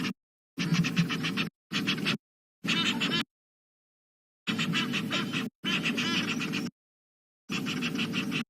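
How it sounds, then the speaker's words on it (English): Resident pair of geese calling loudly and harshly near the water after another goose flies in, in repeated bursts of honking separated by short silences. "A goose flying in has disturbed the resident pair of geese"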